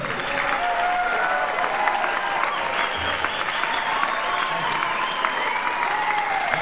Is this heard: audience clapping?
yes